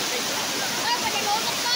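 Gaas Falls pours in a steady, broadband rush of falling water heard close by, continuous and fairly loud, with a faint voice briefly underneath.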